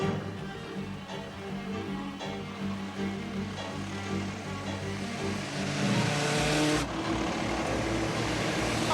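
A car speeding away in a chase: a close engine roar that climbs in pitch and intensity, ending in a sharp surge before cutting off.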